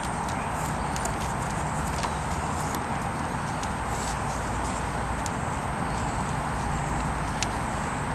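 Hooves of a ridden horse clip-clopping on the ground in a steady, even walking rhythm, moderately close under a constant background hiss, with no talk.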